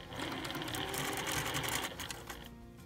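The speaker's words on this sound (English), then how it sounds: "You always want to send this side, the folded side, through your machine first, and sew a quarter inch right there." A sewing machine runs continuously and close, stitching a quarter-inch seam on a Dresden plate quilt blade with a steady whirring, rapid needle rhythm throughout.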